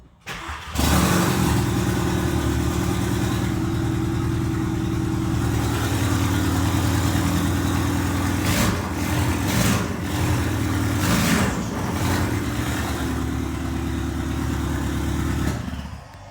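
A rebuilt Volkswagen MK7 GTI engine starts and keeps running, a steady, loud, close idle with a low rumble that holds for about fifteen seconds before cutting off.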